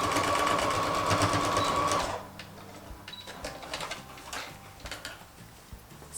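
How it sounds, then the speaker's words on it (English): A sewing machine stitches across the corner of a zippered fabric bag in a fast, even mechanical whir for about two seconds, then stops, leaving faint clicks and handling noise. "then we're going to stitch across here"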